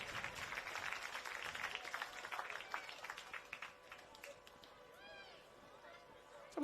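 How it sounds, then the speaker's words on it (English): Polite applause from the crowd at a women's football grand final, Southport Sharks against Bond University, a steady spread of clapping that fades toward the end, with a commentator talking over it. "That was almost polite applause from the crowd. It was polite applause."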